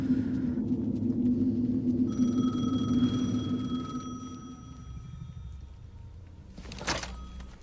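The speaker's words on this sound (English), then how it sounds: "The phone again." A telephone ringing in the video game Alan Wake II, a sustained tonal ring over a low droning rumble, cutting off after a few seconds and followed by a brief clatter.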